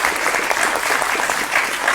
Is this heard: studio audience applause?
yes